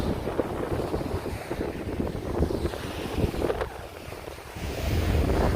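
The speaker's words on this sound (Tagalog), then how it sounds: "Dagat ng San Juan" Sea waves washing ashore at San Juan beach in La Union, a steady, moderately loud surf wash mixed with wind buffeting the microphone, with no voices.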